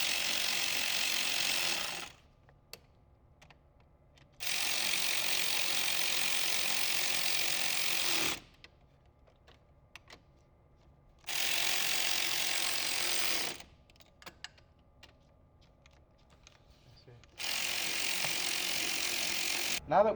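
A ratchet tightens fasteners during an IMR Stinger intercooler install, with four bursts of rapid clicking, each lasting about two to three seconds, separated by quieter pauses, close and fairly loud.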